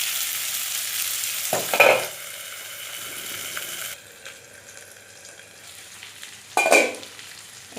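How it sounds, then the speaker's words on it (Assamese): Potatoes fry in hot oil for an Assamese rou fish curry, a steady sizzle broken by two louder bursts of stirring or sputtering. "তাৰপিছত মই আলুখিনি দি দিম। 2 মিনিটমান ভাজি ল'ম"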